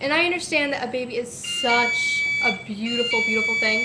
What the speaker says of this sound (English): That's the alarm that goes off anytime someone pulls in my driveway.